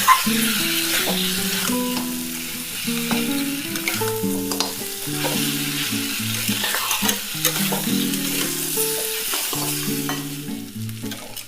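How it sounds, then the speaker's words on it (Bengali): Crab masala sautéed in a pan, a continuous sizzle and frying crackle under repeated scraping and stirring of the spatula against the pan, steady and close throughout with no voices. "আবারও আমি ভালো মতো কষে নেব"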